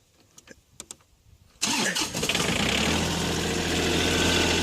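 A John Deere 4410 tractor's diesel engine, glow plugs preheated, cranks after a few faint clicks and fires up, then settles into a loud, steady idle close by.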